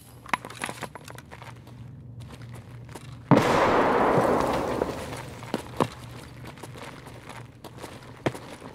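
A single sharp grenade blast in an Escape from Tarkov hallway, going off suddenly past three seconds and rumbling for about two seconds, surrounded by footsteps and gear clinks.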